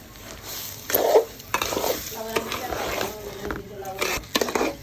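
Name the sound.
stirring polao rice in a pot for chicken biryani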